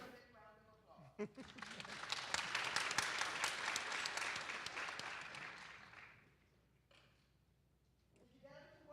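An audience at a political panel discussion applauds a panelist after an introduction: a dense round of clapping swells, holds steady for several seconds, then fades out, with bits of talk before and after.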